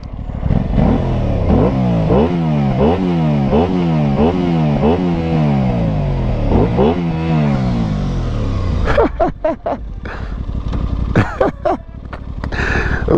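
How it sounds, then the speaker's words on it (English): An Aprilia RS660 motorcycle engine revving loud and close, rising and falling in repeated throttle blips with a deep tone, then settling into a rough idle with clattering pops near the end. "It's got a nice, like, deep sound to it, especially when you get on the throttle."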